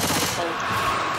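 Rapid gunfire in the co-op zombie shooter Left 4 Dead 2, a dense continuous burst of shots lasting about a second, loud and close, with game sounds layered underneath.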